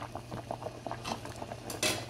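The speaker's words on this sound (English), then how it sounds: "It's been boiling for around 10 minutes or so, and it might take about 5 more minutes." Potatoes boil in a pot of salted water for a Trinidad-style potato salad, giving a steady bubbling, popping patter with occasional sharper clinks, close and moderately loud with no talk.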